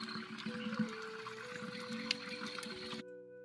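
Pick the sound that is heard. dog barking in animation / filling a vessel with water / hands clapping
filling a vessel with water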